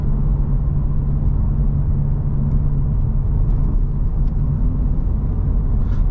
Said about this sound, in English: how amazing this car sounds having the resonator deleted